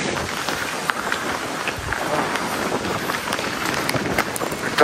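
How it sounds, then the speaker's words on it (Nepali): Strong cold wind buffeting the microphone on the foggy summit of Mount Tsukuba, a dense, continuous roar with gusty swells and no clear voices. "त्यस्तै हावा चलेको एकदम चिसो।"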